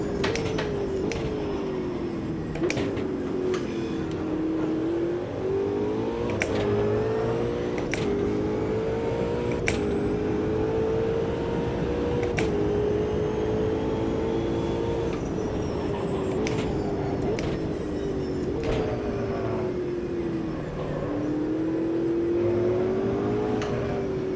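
A race car engine in the Automobilista 2 racing game drones steadily and loudly throughout, its pitch rising and dipping gently with throttle and gear changes, with sharp brief clicks scattered over the continuous hum.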